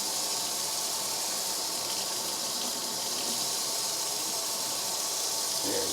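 Tap water runs steadily into a measuring cup, filling two-thirds of a cup for homemade potato bread dough: a constant, even hiss of flowing water with no voices.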